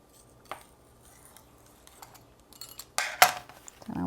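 Stacked carnivore lasagna noodles are cut in half with a blade, giving a few sharp clicks and a brief louder crunching cut near the end, close and otherwise quiet.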